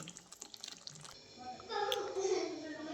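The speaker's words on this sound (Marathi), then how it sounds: "आता गरम केलेलं पाणी टाकते" Hot water pours steadily into a pan of potatoes, a gushing splash rising after a second of quiet clinking, with a faint voice early on.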